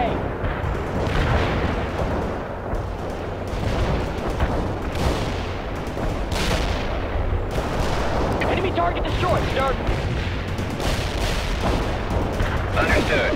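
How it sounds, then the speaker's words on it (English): Artillery fire booms repeatedly in a war video game set in a Third World War battle for Cascade Falls, dense rumbling blasts and gunfire running steadily throughout, with radio-style voices talking over the barrage. "Artillery firing."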